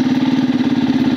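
Yamaha FZS V4 motorcycle engine idling in neutral, a loud, close, steady low chug with a regular pulsing beat and no voices.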